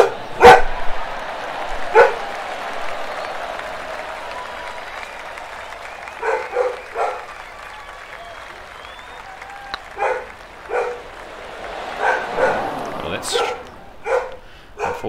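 A pet dog indoors barks in several short bursts at moderate distance, breaking through faint game sound and room noise from a PGA Tour 2K23 golf session.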